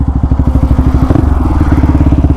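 Close and loud, an NS 200 motorcycle fitted with an Akrapovic exhaust pulls hard in first gear, its rapid engine firing pulses throbbing steadily as the revs climb through the short burst.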